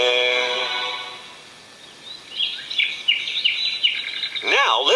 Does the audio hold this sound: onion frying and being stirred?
no